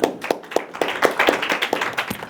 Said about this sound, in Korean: 우리 김동완 의원님 큰 박수로 환영해 주시면 감사하겠습니다